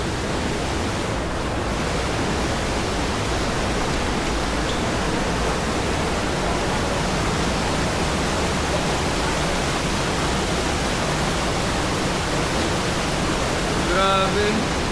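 Ditumabo Falls roars as a steady, loud, broadband rush of falling water that fills the whole scene without a break, with faint voices in the background.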